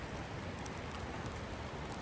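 Faint, even patter of rain falling on a rainy day at a house construction site, a soft continuous hiss with scattered light drops and no voices.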